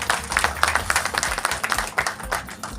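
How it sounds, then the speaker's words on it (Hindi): An audience applauds at an award ceremony honouring journalists, a short burst of dense clapping from many hands at moderate distance with no speech. "जोरदार तालियां"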